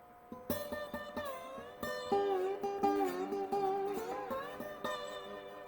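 Slide guitar played without dampening the strings, so neighbouring strings ring on under gliding slide notes, making a fuller, washy sustain with overlapping tones, close and without voices.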